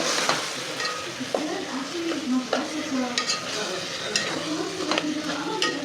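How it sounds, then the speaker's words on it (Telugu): Ginger paste frying with tomato pieces in a pan for a simple biryani, loud close sizzling with repeated stirring scrapes and light clinks of a spoon against the pan. "ఇప్పుడు అల్లం పేస్ట్ వేసుకుందాం"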